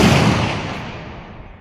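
A single loud, close blast from a Smith and Wesson 1854 lever-action rifle in .44 Magnum, fired outdoors, its broad boom rolling off into a fading echo over about a second and a half, with no talking.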